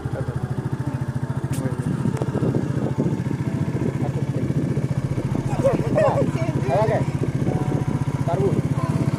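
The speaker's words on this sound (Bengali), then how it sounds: "এটা বাইক চলছে দেখো এটা ফির ভি বুলেট চলছে" A Royal Enfield Bullet motorcycle runs with a steady thumping engine pulse throughout, close and fairly loud, with people talking over it.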